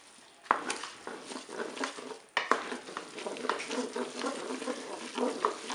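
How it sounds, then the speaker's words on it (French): A spoon stirs a teaspoon of mustard into a pan of cooking sauce with tomato concentrate, giving soft scraping and light clinks against the pan over a faint sizzle, close and fairly quiet. "Je vais rajouter une cuillère à café de moutarde. Je mélange."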